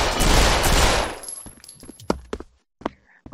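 A dense, loud spray of automatic fire in the VR shooter Pavlov VR fades after about a second, followed by scattered sharp single shots and clicks with short silent gaps.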